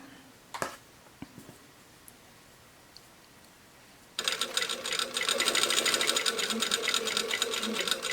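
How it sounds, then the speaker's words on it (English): A home sewing machine stitches a bodice seam up to the first notch, starting after a few faint clicks and handling noises, then running steadily and loudly for several seconds in a continuous mechanical whir. "you can very easily sew to the first notch"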